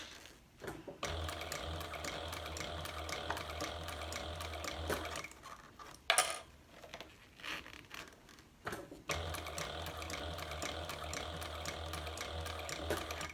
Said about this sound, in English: I pretty much use this machine for straps like this and top stitching.